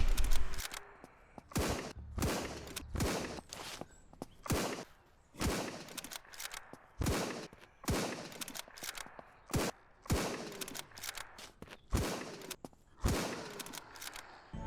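Rapid bursts of gunfire at zombies in the video game SurrounDead, sharp loud shots in repeated clusters with brief pauses between volleys, no talking.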